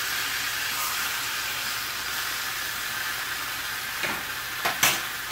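Steak and potatoes fry in a pan with a steady close sizzling hiss, broken near the end by a few scraping clatters, no voices.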